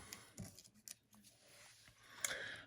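Scissors snip paper for a Stampin' Up Christmas tag, giving a few quiet, close crisp cuts and rustles. The last snip is the sharpest, and no one speaks.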